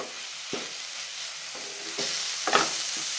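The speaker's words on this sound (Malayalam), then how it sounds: "അടപ്പ് മാറ്റി ഫ്ലെയിം കൂട്ടി വെച്ച് ഇതിൻ്റെ ജലാംശം എല്ലാം മാറ്റി നന്നായിട്ട് ഇളക്കിയെടുക്കും" Sheemachakka (breadfruit) thoran stirred in an uncovered pan over high flame to dry out its moisture, with soft sizzling and several distinct scraping spoon strokes against the pan, close by and with no voices.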